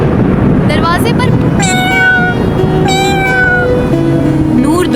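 A fluffy cat meows several times in rising, drawn-out calls, heard clearly over steady background music.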